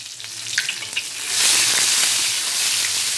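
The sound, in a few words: sautéing spice paste ingredients in oil for beef bone curry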